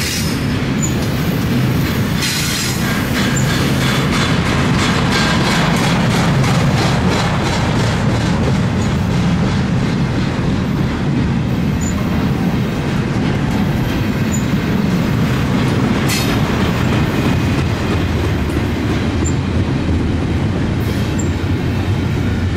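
An eastbound intermodal freight train rolls past at Sand Patch in the Alleghenies, a loud continuous rumble of wheels and cars with rhythmic clicks from the rail joints and occasional high squeals, no talk.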